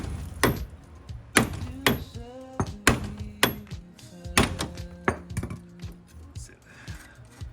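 Hammer blows knocking a ball joint free of an ATV steering knuckle on a 2020 Kawasaki Teryx, about nine sharp metallic strikes in an uneven rhythm, close and loud, with ringing tails from the struck steel.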